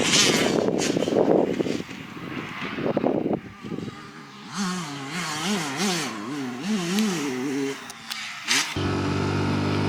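At a motocross track near Duns in the Scottish Borders, dirt bikes rev and whine, their pitch rising and falling as they work around the course at mid distance. There are rougher, louder bursts at the start.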